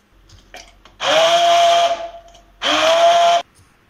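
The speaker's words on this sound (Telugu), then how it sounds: "మనం బ్లెండ్ చేసుకున్నాం కదా, ఇది స్మూత్ కన్సిస్టెన్సీలోకి రావాలి." A blender purees broccoli soup in two loud bursts of whining motor noise, one longer and one shorter, separated by a brief pause.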